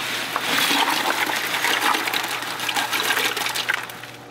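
Water gushes into a large bucket being filled with ice water, a loud continuous rushing pour with a steady low hum underneath, splashing more unevenly toward the end.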